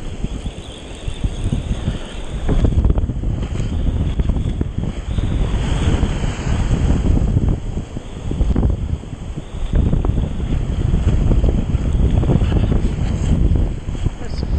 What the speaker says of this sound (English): It's too windy to fly fish out here today.